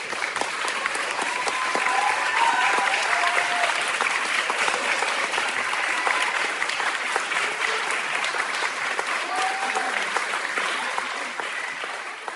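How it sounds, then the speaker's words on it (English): Sustained applause from a crowd, dense steady clapping that carries on for several seconds before tapering slightly. "Round of applause."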